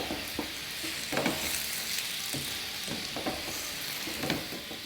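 Dal frying in a pan and being stirred and flipped over with a spoon, giving a steady sizzle broken by several short scraping stirs at an uneven pace, close up with no talking.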